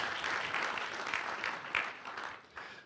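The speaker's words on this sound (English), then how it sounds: "So they really deserve a round of applause for their efforts" Moderate, somewhat distant applause from an audience at an antitrust law mock trial event, steady clapping for nearly three seconds with a few louder claps standing out.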